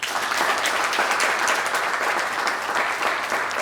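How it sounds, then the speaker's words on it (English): An audience applauds steadily throughout, a dense, continuous patter of many hands clapping at close range with no voices rising above it. "Clap again."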